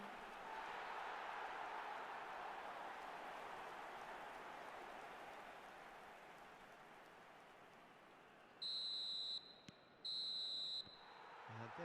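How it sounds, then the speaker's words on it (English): A referee's half-time whistle in an eFootball match: two long, shrill blasts close together near the end, after a stretch of broad stadium crowd noise. "And there is the half-time whistle."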